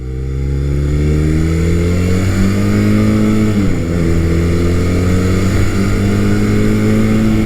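A Honda CB400T Hawk motorcycle engine revs steadily while riding, a loud continuous drone that climbs in pitch, dips briefly as the throttle eases, then rises again, with no voices.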